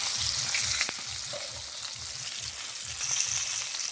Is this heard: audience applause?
no